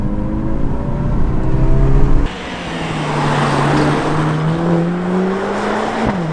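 Mercedes A45S on a test drive in Sport Plus mode, its exhaust loud and near as the engine revs hard, then drops after a sudden lift and settles into a steadier, rising drone, no voices.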